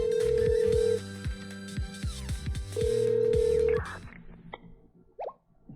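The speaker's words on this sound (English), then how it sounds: "I called Ryo's burner phone." A burner phone rings through a call in the Blue Archive game, with a repeating electronic ring tone and pulsing tones over background music before the ringing stops.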